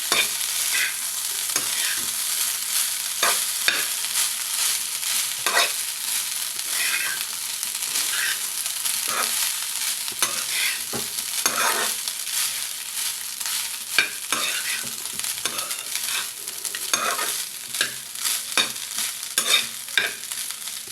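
Ponnaganti greens and cooked rice being stirred together in a hot pan, a steady bright sizzle of frying under repeated scraping strokes of the spatula, close and continuous for the whole stretch, with no voices.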